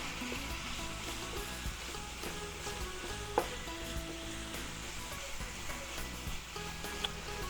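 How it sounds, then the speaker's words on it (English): Two pounds of Wagyu beef ribeye cook on a flat griddle for a Philly cheesesteak, a dense, even sizzle with faint scraping and occasional small ticks, steady and close, with no voices. "2 pounds of Wagyu beef. Yes. Cook it up."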